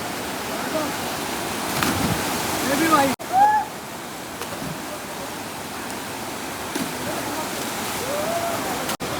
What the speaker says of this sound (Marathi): हा बघा कुंड एकदम पाण्याचा गोल गोल वाहतंय